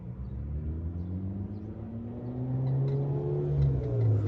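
A car engine fitted with a Holley 4-barrel carburetor runs with a deep, steady rumble, its pitch wavering and rising slightly as the idle shifts, close and alone with no voices.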